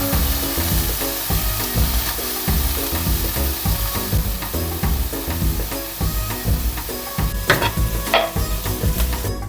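Pork pieces sear in a hot pan for a stew, a steady loud sizzle running throughout with busy clattering and scraping of a utensil against the pan, growing brighter with sharper hisses near the end.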